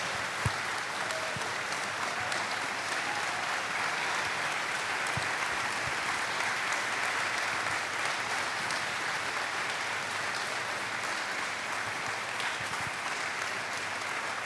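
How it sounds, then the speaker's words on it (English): Sustained applause from a large crowd at a university athletics hall of fame induction ceremony, steady and loud throughout with dense clapping and no break. "please join me in a round of applause"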